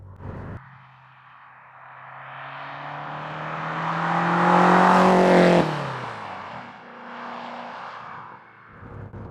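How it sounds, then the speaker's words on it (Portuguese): Lotus Esprit V8 engine, compact and light with a slightly rough edge at high revs, revving up hard in a single loud rising sweep that peaks and then drops back to a steadier lower drone, heard alone. "é um motor gostoso de usar, mas não tem um som especial e parece um pouco áspero em altas rotações"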